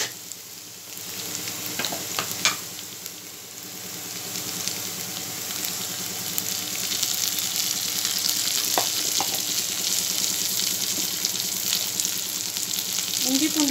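Curry leaves and ginger-garlic paste sizzle steadily in hot oil for a prawn masala curry, with occasional stirring scrapes and small pops, the frying growing slightly louder and denser toward the end.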